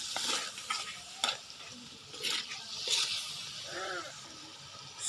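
Oil frying for Filipino adobo gives a soft crackling sizzle, with several sharp scraping stirs near the start and a faint voice murmuring partway through.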